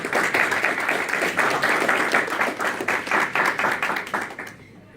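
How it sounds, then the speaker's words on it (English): Festival crowd gives a sustained round of applause, dense overlapping clapping that stays loud and even before cutting off abruptly at the end. "So let's give them all a big round of applause."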